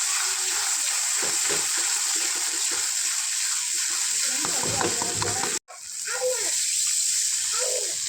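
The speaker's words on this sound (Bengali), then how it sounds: "অনেকক্ষণ নাড়াচাড়া করতে আছি করতে আছি" Local chicken eggs cook in a frying pan under long, steady stirring: a constant loud sizzle with repeated spatula scrapes, a brief cut-out, then more sizzling with a voice murmuring faintly.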